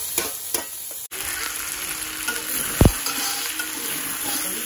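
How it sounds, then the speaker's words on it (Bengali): Meat stir-fried with spices in a pan, giving a continuous hissing sizzle broken by a few scrapes and clanks of a spatula, with one sharp knock near the middle. "এই যে মাংস কষানো প্রায় শেষ।"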